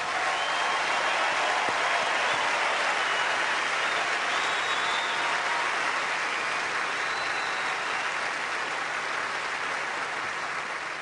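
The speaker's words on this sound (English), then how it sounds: "what about a nice warm round of Australia Day applause for our 2 finalists once again." A large crowd at a tennis final applauds the two finalists in steady, dense clapping that holds at a constant level throughout, with no voices above it.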